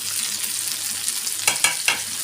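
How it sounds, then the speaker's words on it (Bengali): Okra frying for bhaji with bay leaves, turmeric, green chilli, spice powder and salt makes a loud steady sizzle, broken near the end by three quick stirring scrapes in the pan. "আমি সবগুলো মশলা এখানে নেড়ে চেড়ে দিচ্ছি, যাতে সবগুলা ভাজির মধ্যে হালকাভাবে লেগে যায়।"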